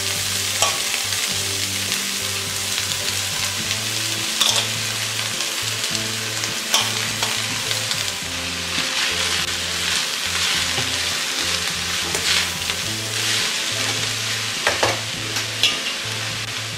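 Drumstick leaves and onions stir-fry in a pan with a constant close sizzle and regular scraping stirs of a spoon, sustained for many seconds without any voices.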